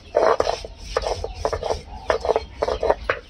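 Pointed gourd leaves being ground into paste on a grinding stone, with a rough, rasping scrape repeated in uneven rhythmic strokes, close and moderately loud.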